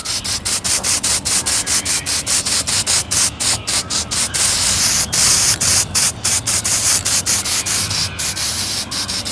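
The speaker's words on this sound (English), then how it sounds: "You notice I just do little spot sprays. I don't just spray continuously." Black spray paint hisses from an aerosol can in short, rapid bursts onto a handmade Halloween prop, a loud, close, uneven string of separate sprays with brief gaps between them and no voices.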